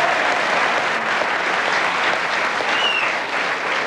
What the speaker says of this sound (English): give them a clap